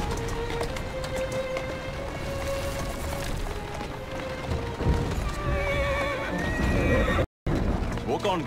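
In Assassin's Creed Syndicate, a horse whinnies while its hooves clip-clop steadily on a hard surface. A calm voice speaks over the hoofbeats, and a short silent gap falls near the end.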